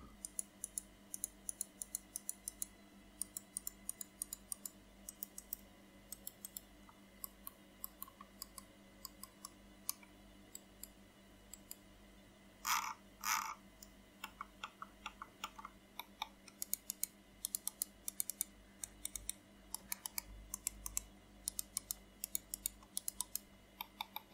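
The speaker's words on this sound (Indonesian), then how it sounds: "Berikut suara kliknya." Clicks of a Logitech G502 Hero mouse with Omron switches, sharp and close, coming in irregular runs and pairs throughout with a brief louder rattle midway, over a quiet steady background hum.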